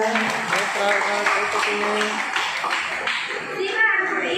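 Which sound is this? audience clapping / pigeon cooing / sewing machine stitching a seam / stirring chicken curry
audience clapping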